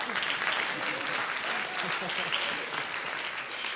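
Steady applause from an audience at a college talent show, a dense wash of clapping that holds at an even level throughout.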